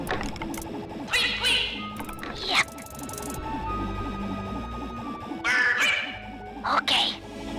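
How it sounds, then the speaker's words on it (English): A bird call comes through the grapple cam speaker in the video game Sly 3: Honor Among Thieves, sounding as repeated chirping squawk bursts over a steady whirring, ticking mechanical game backdrop. "I'll make a bird call through the grapple cam speaker."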